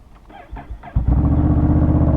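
A Honda Rebel 1100 motorcycle is walked onto a trailer under its own power. Its engine catches after a second of faint rattling and then holds a loud, steady, deep idle rumble close by.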